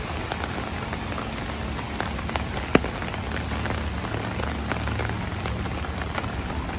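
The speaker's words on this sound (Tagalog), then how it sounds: "kung hindi lang umuulan eh" Steady rain falls and splashes on surfaces outdoors in Singapore, a dense, even hiss that holds for the whole stretch with scattered louder drops and one sharp tap near the middle.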